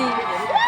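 A dense crowd roars and shouts at a bullock cart race in Mathur, Maharashtra, a brief burst of mixed cheering and whooping voices close around.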